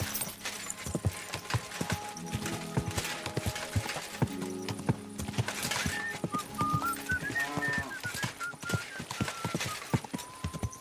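Horse hooves clip-clop in a steady rhythm in the video game Kingdom Come: Deliverance II, with an occasional whinny in the background.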